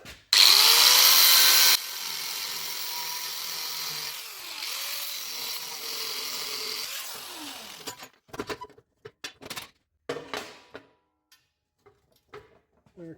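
Power tool cutting recycled metal for a welded bird bath sculpture, starting with a loud, bright burst of grinding for under two seconds, then a steadier whine that winds down, followed by scattered clanks and handling noises.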